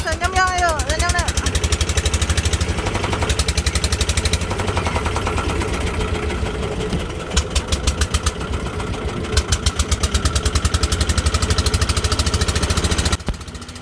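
Ketek motorboat engine idling at the dock on the Musi River, a steady rhythmic putter running throughout at close range, with a voice speaking over it at the start.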